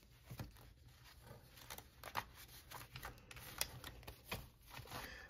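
Tarot cards shuffled and pulled by hand, a quiet run of soft papery riffles and slaps with no voice over them.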